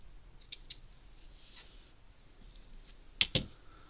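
Scissors snip ribbon tails on a handmade hand sanitizer gift box, with two faint crisp snips early and two sharper, louder cuts near the end over a quiet room.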